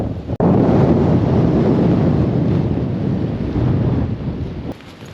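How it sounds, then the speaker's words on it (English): Strong wind gusting across a mountain campsite at night, a loud, constant roaring rush that buffets close to the microphone, with a brief drop near the start and easing slightly at the end. "the wind picked up and it turned really bad"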